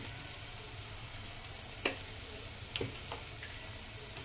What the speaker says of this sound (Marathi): बघा, मसाला आपला फ्राय झालेला आहे, तेल सुटलंय।